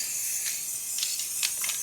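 A spray paint can hissing steadily with a few short bursts of stronger spraying, close and fairly quiet, with no talking.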